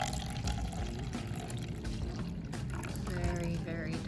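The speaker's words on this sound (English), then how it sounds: "Here comes the pour." Milk pours from a container into a vessel in a soft, continuous liquid stream, fairly quiet and heard alone without talk.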